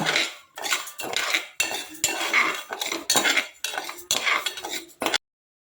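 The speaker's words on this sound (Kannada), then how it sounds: "ಇದನ್ನ ನೀಟಾಗಿ ಹುರ್ಕೊಳ್ಳೋಣ" Moong dal for sweet pongal being roasted in a pan, stirred with a metal spoon in a series of loud scraping, rattling strokes broken by short pauses, close up, with no talking.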